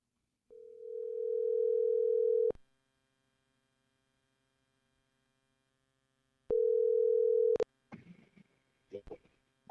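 Two long electronic ringback tones, each about two seconds, separated by a pause, then brief clicks and faint sounds after the second ring.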